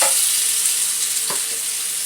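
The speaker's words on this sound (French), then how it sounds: "Je fais frire le saumon comme si c'était le poisson." Salmon frying gently over low heat in a pan, a close, continuous hiss of sizzling oil with a brief scrape partway through and no talking.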